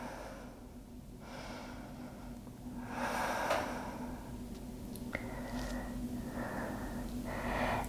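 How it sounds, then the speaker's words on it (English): Breathing during at-home vinyasa yoga practice: slow, audible inhales and exhales, soft and close, repeating in long breaths over a low steady room hum with no talking. "Just breathing here."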